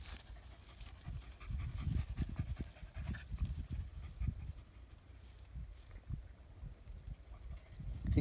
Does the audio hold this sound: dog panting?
yes